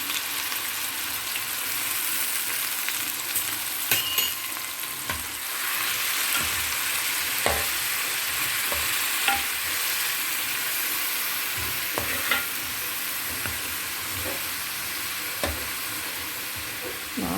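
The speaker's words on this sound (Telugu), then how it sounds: "చక్కగా ఎర్రగా వేగిపోవాలండి పచ్చిమిరకాయలు ఉల్లిపాయలు" Green chillies and sliced onions fry steadily in oil for a fish curry, a dense continuous sizzle with occasional louder crackles and spoon scrapes throughout, no voices.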